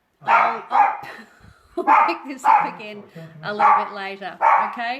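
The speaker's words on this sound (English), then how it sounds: "my dog is flipping out because he's so excited to see Granddad" An excited dog barks and yips in short bursts, mixed with a person talking steadily close by.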